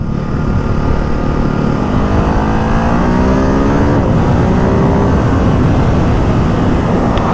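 A 2024 Ducati Hypermotard 950 SP motorcycle engine accelerating hard, loud and close, its rising revs sweeping upward through several gear pulls over steady wind rush, with no talking.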